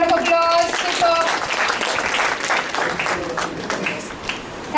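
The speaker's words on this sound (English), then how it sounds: "Team Chinmaya, Team Tejomaya, give yourself a round of applause." Trainee teams at a physical training session applaud, a dense burst of clapping with a few voices calling out over it, staying fairly steady and tapering slightly toward the end.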